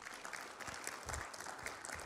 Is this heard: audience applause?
yes